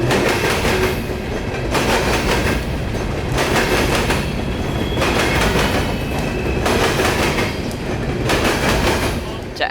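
An empty ethanol freight train with an empty coal train coupled on the end rolls past close by in Plant City, Florida, loud continuous rumble with rhythmic clickety-clack wheel beats.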